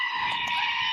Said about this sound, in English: I've just got the organic plastic screaming goat.